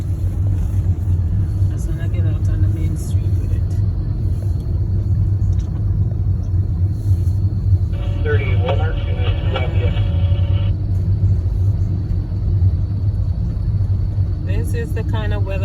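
A car drives along a road in a snowstorm, its engine and tires making a steady loud low rumble from inside the cabin. Faint higher clicks and whirs sit on top, and a person talks over the noise.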